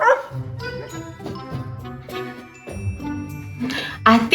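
A voice imitates a small dog's yapping bark for a baby, short playful yips in quick repeated bursts, close and clear, mixed with light jingling and a few lilting vocal sounds.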